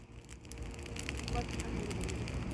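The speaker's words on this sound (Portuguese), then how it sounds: "Gente, esse fogo tá muito alto." A tall campfire burning close by, crackling and roaring in a steady dense wash with sharp pops scattered throughout.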